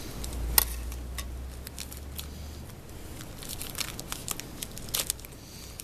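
Scissors cutting open the plastic bag around a copy of The Pilgrim's Progress: soft crinkling and sharp snips at close range, with a low hum early on and several distinct rustles and clicks.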